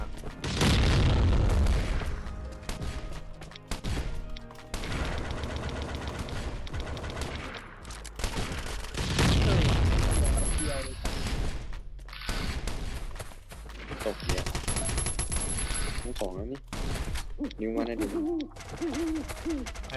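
Rapid bursts of gunfire, including shotguns, and booming explosions in Last Island of Survival play loudly and continuously, with heavy thumps and rattling shots layered over game sound effects.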